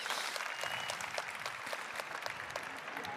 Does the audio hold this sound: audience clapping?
yes